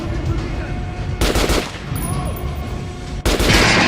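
Loud bursts of rapid gunfire from a gun in the video game Metro Last Light Redux erupt twice over a low, rumbling background, each burst sharp and close.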